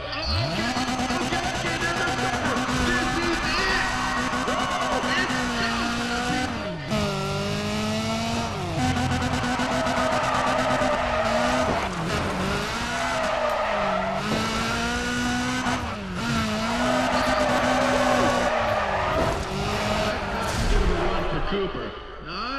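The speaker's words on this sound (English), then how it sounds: "Yeah, that's my drift car" Drift car tires in the Need for Speed ProStreet video game squeal repeatedly over a loud, revving engine, with long wavering skids that rise and fall throughout as a voice talks alongside.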